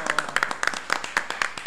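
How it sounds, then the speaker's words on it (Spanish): Scattered, uneven clapping from a few people applauding Hugo Beras, light and close, with distinct individual claps rather than a full crowd roar. "Un aplauso, Hugo."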